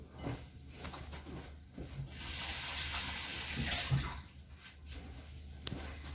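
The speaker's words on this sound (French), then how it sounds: "je me lave les mains" Kitchen tap running as hands are washed after handling sushi rice, a steady close splash that swells in the middle and thins with brief interruptions, with no talking.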